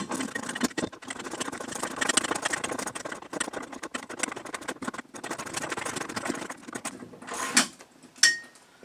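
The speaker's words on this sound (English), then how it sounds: "So it's a 1/2-inch bolt. I'm gonna go ahead and tighten that sucker up as quickly as possible." Ratchet tightening a 1/2-inch bolt for a TV wall mount: steady, close clicking and rattling runs for most of the clip, then a couple of sharper knocks near the end, with no talking.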